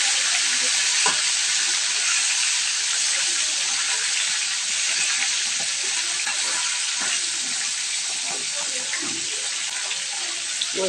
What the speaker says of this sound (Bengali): মাছগুলো এখন ভাজা হয়ে গেছে